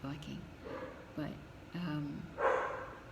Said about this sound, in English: I'm sorry, Arthur's barking